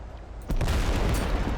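Artillery fire in the video game Total Conflict: Resistance: a sharp, loud blast lands about halfway through and rolls into a dense, sustained rumble of distant shelling.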